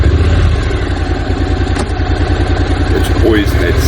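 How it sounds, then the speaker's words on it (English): A Honda NC750X motorcycle idles with a deep, throaty exhaust burble, a steady close-up pulsing rumble throughout with faint background voices near the end. "It's always had such a meaty, such a lacquer, throaty burble from the exhaust pipe."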